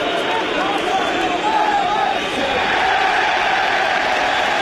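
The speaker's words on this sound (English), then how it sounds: "I think the boos were for a VAR check, which flashed up on the screen, and then a cheer as it was soon cleared." Football stadium crowd at Everton vs Fulham in the Premier League, a steady loud roar of many voices that is dense and sustained, with no clear break between booing and cheering.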